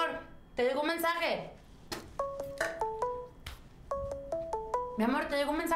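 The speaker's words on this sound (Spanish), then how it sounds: "te llegó un mensaje de texto" A mobile phone plays a text message notification tone, a series of short bright melodic chimes repeated in clusters, with a voice talking between them.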